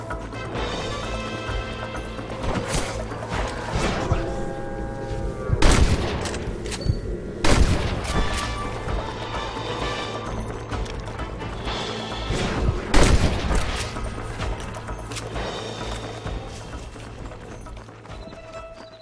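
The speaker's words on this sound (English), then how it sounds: "Fine shooting, boys." Rapid gunfire crackles through a shootout in Red Dead Redemption, with clusters of sharp shots and heavy blasts over a low backing score, denser bursts around the middle and a tapering finish.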